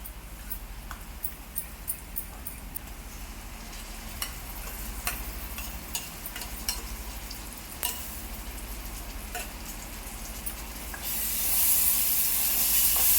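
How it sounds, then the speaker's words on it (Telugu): Fish biryani gravy sizzles steadily in a pan over a medium flame while it is stirred. Small scraping clicks of the spoon sound against the pan throughout, and the hiss swells louder toward the end. "మీడియం ఫ్లేమ్లోనే పెట్టేసి మిక్స్ చేస్తున్నాను"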